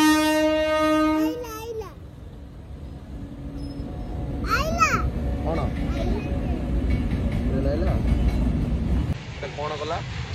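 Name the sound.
train passing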